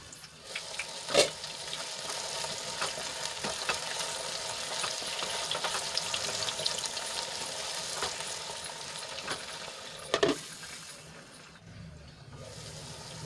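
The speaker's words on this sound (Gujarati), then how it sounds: "તો આપણે ઢાંકીને એને ચડવા દઈશું ને વચ્ચે વચ્ચે બે થી ત્રણ વખત હલાવી લઈશું" Eggplant cooks in a covered pan with a steady low sizzle and hiss, broken by a couple of sharp clanks as it gets stirred now and then, the frying fading near the end.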